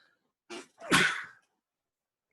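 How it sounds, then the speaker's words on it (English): One close human sneeze: a short sharp inhale followed by a loud explosive burst, in an otherwise quiet room. "Oh, I got to sneeze."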